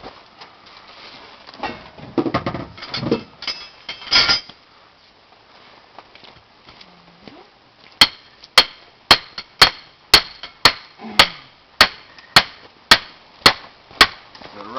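After some muffled handling noise, a sledgehammer pounds a rotten wooden fence post in a steady series of about a dozen sharp, evenly spaced thuds, close and loud.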